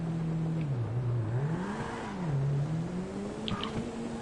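A car accelerating hard on a full run, its engine note climbing, dipping at a gear change and rising again, loud and close with no talk.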